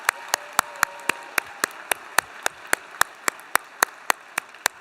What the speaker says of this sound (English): Can we just get a quick round of applause for everyone who worked so hard?